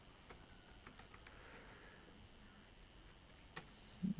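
Soft, quiet keystrokes on a computer keyboard while typing a resume in MS Word, a scattered run of light taps in the first half, then near silence with a couple of louder knocks at the end.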